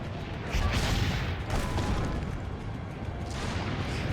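Cannon fire in the video game Assassin's Creed Brotherhood comes as a few heavy booms with rumbling, crashing tails, the strongest blast arriving early and more following amid a busy battle din.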